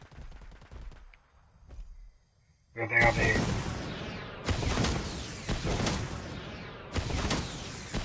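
Plasma cannon fire in Predator: Hunting Grounds, loud sustained blasting bursts with broad crackling energy that cut in and out over a few seconds, following someone speaking briefly.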